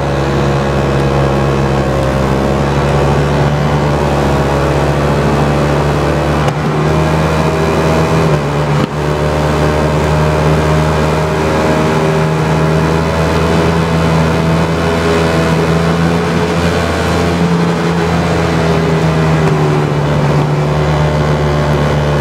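A KTM Duke 1290 and a Hayabusa motorcycle at a drag race, their engines droning loud and steady throughout with sustained revving tones and no break.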